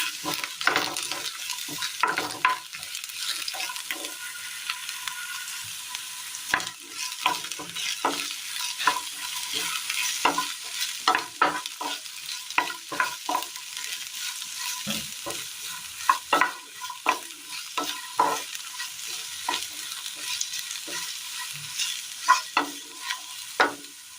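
Sliced onion and two green chillies fry in a pan for a Kerala mezhukkupuratti with jackfruit seeds, sizzling steadily while a spoon stirs in repeated scraping strokes, up close and with no voices.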